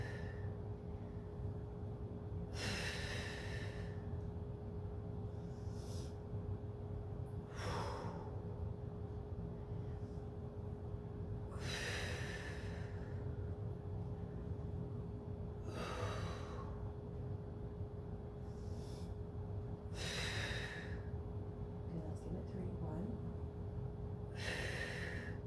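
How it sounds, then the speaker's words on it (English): Breathing during a Pilates exercise, a series of about seven audible breaths, sharp airy inhales and exhales spaced a few seconds apart, close and clear over a quiet steady hum. "Remember your breathing. Inhale, exhale, pull the belly in."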